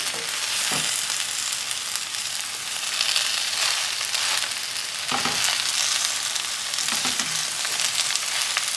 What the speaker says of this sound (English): So add the spinach in. Okay. So we're just going to mix this. So this just needs to wilt down.